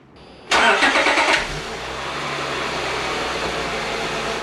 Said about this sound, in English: And now we can start the car.